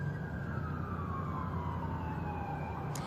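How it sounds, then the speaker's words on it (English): An ambulance siren wails steadily in a continuous sliding tone over constant street rumble as the vehicle comes around the corner, arriving after a soldier shooting at Fort Stewart. "I can hear those lights and sirens right now, and the ambulance is coming around the corner."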